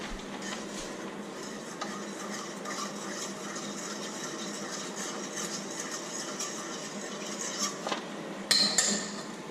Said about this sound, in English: We're going to mix this up, stirring constantly.